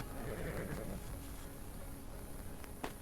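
A horse in the video game Legend of Khiimori whinnies over a noisy, hissy background, with a soft thud and a faint clop near the end.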